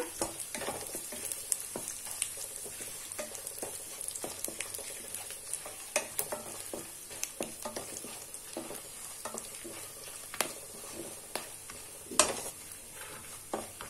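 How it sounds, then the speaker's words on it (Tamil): Fennel seeds, kasuri methi and whole spices sautéing in hot oil for country chicken biryani, a soft continuous sizzle with frequent scraping and tapping of a spoon against the pan, close and fairly quiet. "கொஞ்சமா சோம்பு போட்டுக்கிறேங்க. போட்டு இதெல்லாம் கொஞ்ச நேரம் நல்லா வதக்கலாங்க"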